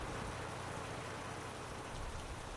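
Steady rain falls on a city street along a bus route, a dense, even hiss of drops that holds at a constant level with no gaps or voices.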